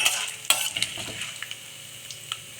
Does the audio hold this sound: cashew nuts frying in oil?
yes